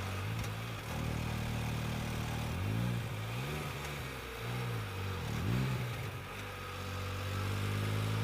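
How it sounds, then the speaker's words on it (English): A vehicle engine pulling uphill in fifth gear, a steady loud drone whose pitch rises and dips in repeated swells, close and continuous with no talking. "Pulling this hill pretty good in 5th gear."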